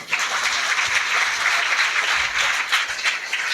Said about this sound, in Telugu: గట్టిగా చప్పట్లు కొట్టండి అమ్మా